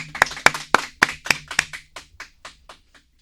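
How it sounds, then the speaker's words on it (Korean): Sparse applause from a small audience at a public poetry recital broadcast: a handful of sharp, evenly spaced claps in a steady rhythm, gradually softening and dying out after about three seconds. "여러분 큰 박수 부탁드릴게요"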